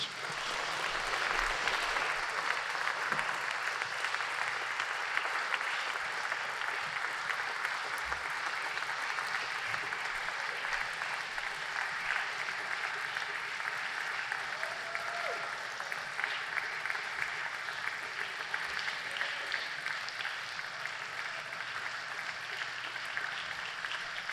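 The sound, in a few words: audience applause while teams join the stage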